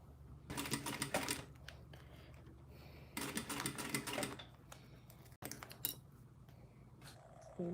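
A sewing machine runs in two quick bursts of rapid, even stitching through thick layers of fabric, with brief pauses and some handling noise between them.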